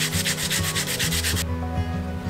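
Daikon radish is grated in quick, rhythmic rasping strokes, about a dozen scrapes in a row before the scraping stops, with soft background music underneath.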